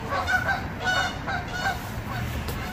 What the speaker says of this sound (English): Oh, those geese are active.